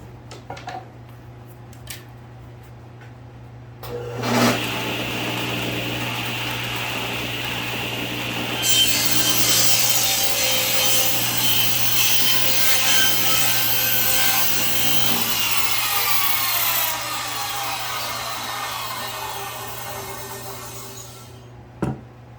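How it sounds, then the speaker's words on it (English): A table saw blade cuts through wood for a custom picture frame, a loud steady whine and grinding rasp for about twelve seconds, then the motor spins down to a fading hum after the cut. "As soon as that thing's detached, just stop and wait for the blade to stop running."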